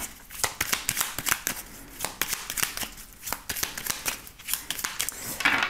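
Tarot cards being riffled and shuffled by hand, then cut, in a run of quick, crisp papery bursts repeating at a close, steady pace with no talking.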